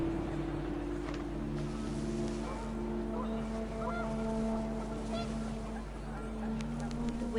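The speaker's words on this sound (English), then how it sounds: "panicked geese appeared and quickly went" Panicked geese honking in a windy outdoor scene from the game What Remains of Edith Finch, several overlapping honks riding over a steady low rumble of wind, moderately loud and continuous throughout.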